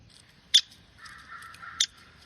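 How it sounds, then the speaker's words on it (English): A played recording of a downy woodpecker call gives two sharp, high pik notes about a second apart, with a softer rattling call between them, against a quiet background. "That's my bird, a downy woodpecker."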